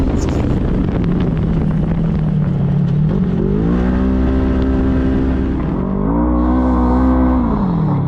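An off-road UTV fitted with Tusk axles runs at wide-open throttle over rocks, its engine roaring loud and steady, with pitch swings as the revs climb and dip, against wind noise.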